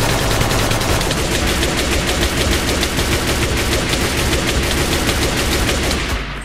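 Rapid, sustained automatic Uzi fire in Minecraft, a loud dense stream of shots running unbroken for several seconds before easing off at the end, no talking.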